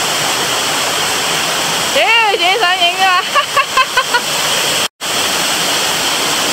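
Big waterfall roaring on a hillside hike, a loud continuous white-noise rush throughout, with someone speaking over it in the middle.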